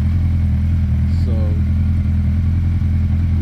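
A 2012 Suzuki GSX-R1300 Hayabusa idles loud and close, its engine a steady, deep, even rumble with no revving, holding at the same level for the whole stretch and heard alone.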